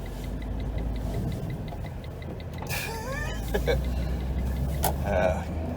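A Smart Fortwo's engine hums steadily up close while a person talks, sliding around a right-hand corner in snow and ice, with a rising whine midway and scraping, crunching noises underneath.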